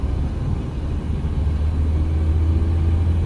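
A Suzuki Swift picks up speed in third gear, a steady low engine rumble and road noise building slightly in loudness, heard from inside the car with no talking.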